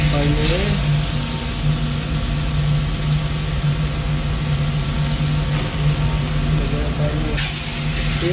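Meat frying in a pan with paprika for a pork noodle soup, a steady dense sizzle running throughout with a faint low hum and brief stirring scrapes, loud and close.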